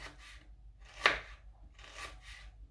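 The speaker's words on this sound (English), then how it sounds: "You slice the onions into long strands, long slices, but thin." Onions being sliced into thin long strips with a knife, soft irregular cutting strokes in short bursts, one slightly sharper tap against the board, quiet and close with no talking.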